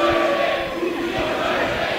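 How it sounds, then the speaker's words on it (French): A wrestling crowd roars and cheers in a steady swell, a dense wash of voices filling an indoor venue during an intergender match, with the noise holding loud throughout. "Et la foule qui acclame misogyne cette fois-ci"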